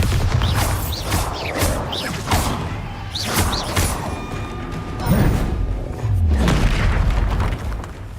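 Spell blasts from Confringo and Bombarda erupt one after another in Hogwarts Legacy, heavy booming impacts and whooshes repeating across the span, loud and close.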